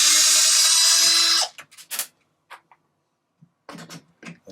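Power tool whirs loudly and steadily for over a second while removing bolts from an RC car chassis, then cuts off, followed by scattered clicks and handling noises up close.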